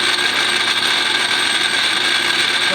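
Lathe cross-slide cut dial clicking as it is turned while machining brass for a double-barrel Ithaca shotgun repair, a dense steady ratcheting under constant machine noise.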